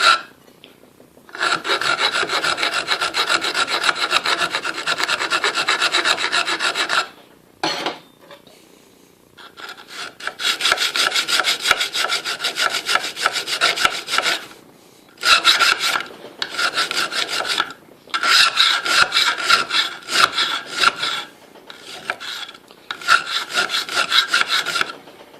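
A knife edge grinds against a Harbor Freight belt sander in long rasping passes, loud and close, broken by short pauses between strokes with no talking.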